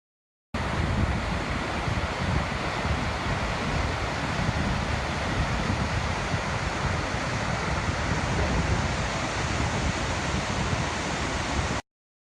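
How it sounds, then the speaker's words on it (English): A powerful Icelandic waterfall roars continuously, its water billowing and crashing as dense, loud broadband noise that holds steady throughout, with wind buffeting the microphone. "all that water billowing up and kind of the power there"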